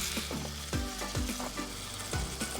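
Pineapple curry bubbles and sizzles steadily in a pan after coconut milk goes in. It is a close, continuous frying hiss with soft stirring scrapes and nobody talking.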